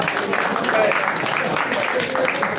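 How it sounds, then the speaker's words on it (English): Audience applause at a membership summit, a steady wash of clapping from a crowd that carries through the whole stretch with a speaker's voice over it. "Please give yourselves a round of applause."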